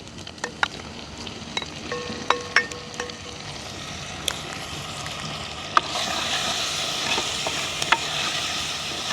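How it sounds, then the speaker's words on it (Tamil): Chopped tomatoes and curry leaves being stirred and sautéed in a pan, a soft steady sizzle with sharp spoon clicks and scrapes at irregular intervals, the frying growing louder and brighter partway through. "தக்காளி பழம் அப்படியே கொஞ்சம் வதங்கட்டுக்கும் எங்களுக்கு"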